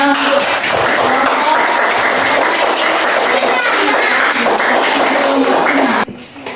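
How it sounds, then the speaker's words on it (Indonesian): Loud, close classroom applause from a group of primary school pupils, brisk dense clapping holding steady for about six seconds before cutting off abruptly. "Kasih dulu tepuk tangan untuk"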